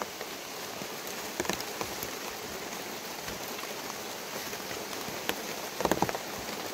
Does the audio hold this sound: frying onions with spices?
no